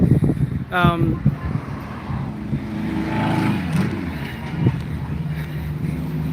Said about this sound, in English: The wind does get really fierce here.